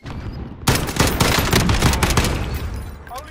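Dense gunfire from the Call of Duty Modern Warfare video game, with a sudden loud volley of rapid shots that continues steadily for a few seconds.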